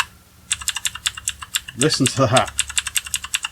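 Clicky mechanical switches on a $50 Walmart gaming keyboard rattle out in a fast, even run of sharp clacks, near and loud, with a short spoken remark cutting in midway.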